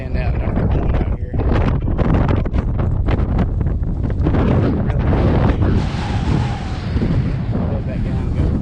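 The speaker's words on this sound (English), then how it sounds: "Hope you guys can hear me over this wind." Strong gusts buffet the microphone outdoors at Fort Morgan, Alabama, near the old coastal gun emplacements, giving a loud, continuous low roar and rumble that fills the whole clip with no let-up.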